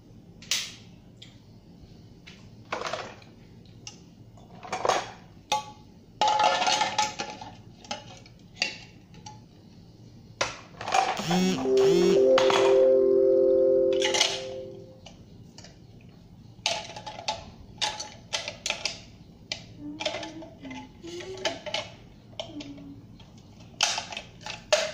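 Parts of an Alpha DA900 juicer are fitted together: scattered sharp plastic clicks and taps, a few bursts of handling clatter, and a longer rattling, whirring stretch midway, with quiet gaps between the sounds.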